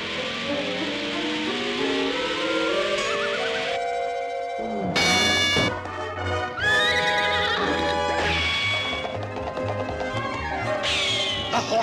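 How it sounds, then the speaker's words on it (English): Cartoon racehorses neigh and whinny repeatedly down the home stretch, loud shrill calls rising and falling over a busy background, with bursts overlapping one another. "The horses are coming down a stretch."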